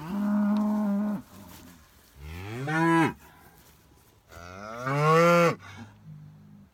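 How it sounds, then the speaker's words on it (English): Beef cattle on a farm, a bull among cows, moo in three long, loud, drawn-out calls close by, separated by short pauses, with no talking over them. "There's the bull, and the bull is after one of the cows that's in heat."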